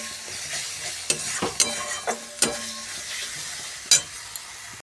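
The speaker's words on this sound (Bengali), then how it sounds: "মশলাটাকে ভালো করে ভাজতে হবে" Ground spice paste for potato curry (aloo dum) sizzling steadily in a pan, with a spoon stirring and scraping against the pan in several sharp close knocks.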